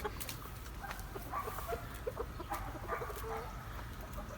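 Village chickens clucking softly in a coop, faint scattered clucks over low background noise, no talk.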